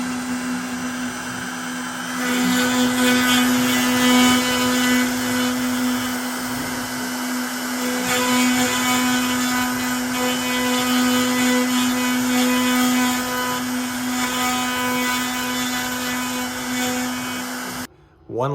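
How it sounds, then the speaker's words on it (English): A CNC router spindle runs at a steady high-pitched hum with a constant tonal whine, close and continuous for a long stretch before stopping abruptly. "So, turn my router on."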